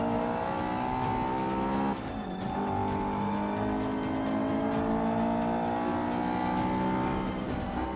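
A race car engine in Forza 5 roars steadily at high revs, with a brief gear-shift dip and a spin marked by tire squeal, loud and close with no talk.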